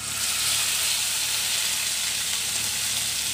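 Chicken 65 frying in a pan, a dense, even hiss of sizzling oil that stays loud and steady for a few seconds, close up with no speech.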